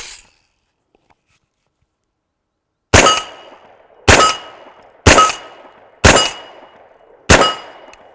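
Five separate 9mm rifle shots fired from a bare muzzle with no compensator, each a loud sharp crack with a short ringing tail, spaced about a second apart after a quiet pause.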